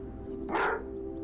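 A dog barks once in a short, sharp burst played back from a video, loud over a steady background hum with faint chirping tones.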